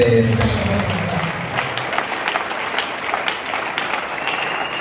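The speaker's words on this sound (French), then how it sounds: "On acclame très fort" A church congregation at a Sunday service claps in a dense burst of applause that fades gradually over several seconds, with a voice briefly audible at the start.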